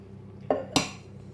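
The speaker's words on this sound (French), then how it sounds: "Je vais mettre les flocons d'avoine à l'intérieur, les 200 g donc, et les 100 g de noix de coco râpée." Oat flakes and grated coconut are tipped into a small salad bowl beside almonds, giving two quick clinks of a utensil or container against the bowl over a quiet kitchen.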